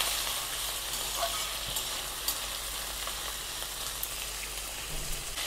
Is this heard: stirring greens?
yes